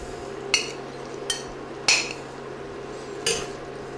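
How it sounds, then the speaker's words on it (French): Cutlery and dishes clink while veal with olives and fresh pasta is plated, four sharp close metallic knocks spaced irregularly over a quiet kitchen background. "Donc maintenant, on va dresser l'assiette."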